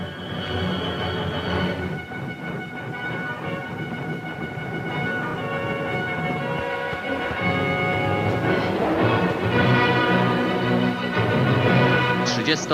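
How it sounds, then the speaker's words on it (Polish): A special train hauling granite blocks to Warsaw in 1948 rolls steadily along the rails, a continuous loud rumble with metallic tonal squeals and rising clatter toward the end. "Specjalny pociąg przywiózł do Warszawy granitowe bloki przeznaczone na kolumnę Zygmunta."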